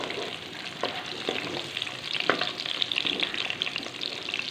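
A small amount of cumin seeds fry in hot oil, a close, continuous crackling sizzle with scattered pops and stirring scrapes.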